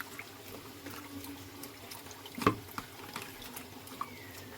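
Water runs softly while aparajita flowers are washed in a kitchen, a faint steady trickle with light splashes and one sharp clatter near the middle, no speech.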